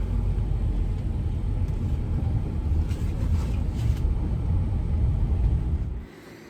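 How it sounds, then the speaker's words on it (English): A car engine rumbles steadily while the car drives slowly around a driveway loop, a loud continuous low drone with some wind buffeting that drops away abruptly near the end. "All right, let's go drive this car and see about it."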